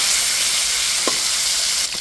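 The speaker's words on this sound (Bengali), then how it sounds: "মাছটা ভালো করে ভেজে নিতে হবে।" Tilapia fish sizzles loudly in a frying pan, a constant hiss broken by a brief scrape or knock near the middle and another just before the end, with no talking.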